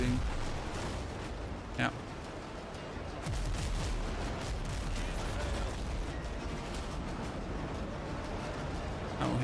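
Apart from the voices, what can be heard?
frigate cannons firing at a ship, Windrose video game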